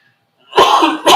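One person coughs abruptly at close range, a harsh rasping burst followed by a second shorter cough after a brief gap.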